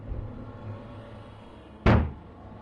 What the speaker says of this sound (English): Then there's a pounding at the door and Win whimpers.